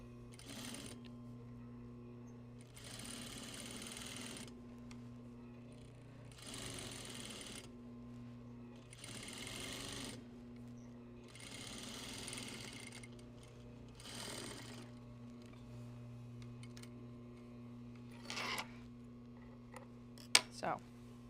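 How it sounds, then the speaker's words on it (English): Sewing machine stitching a straight seam through three layers of fabric, an under collar and seam allowance for understitching, running in several rhythmic bursts separated by short pauses over a steady low hum, moderately quiet. "I'm going to stitch through the 3 layers of fabric, the under collar and my seam allowance"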